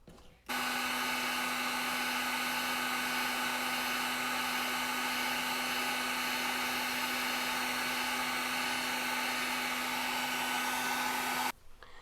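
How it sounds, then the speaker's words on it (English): A heat gun blows steadily while shrinking heat shrink tubing on a power cable, one loud, even whooshing drone with a fixed hum that switches on, runs about eleven seconds without change, then cuts off. "we're going to put the heat shrink on, and then we're going to apply the boot. So back under the heat gun."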